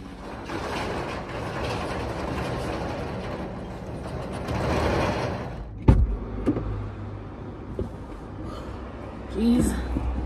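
A car being moved, with a rumbling engine and mechanical clunks near and loud, a sharp thump partway through and a brief squeak, while people talk over it.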